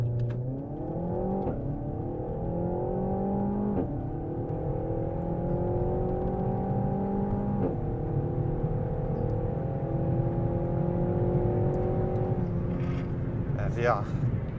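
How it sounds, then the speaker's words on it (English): A Renault Megane R.S 300 Trophy hot hatch launches hard with launch control, its engine revving loudly and climbing through several quick gear changes in one sustained, close acceleration run. "what a launch. And you know, this vehicle is flippin' quick."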